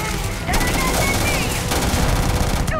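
A gun loaded with a new ammo type fires in Starfield as a loud, fast burst of automatic shots, close and continuous for about two seconds.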